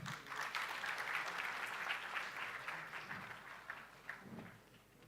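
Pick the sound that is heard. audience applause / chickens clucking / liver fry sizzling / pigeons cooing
audience applause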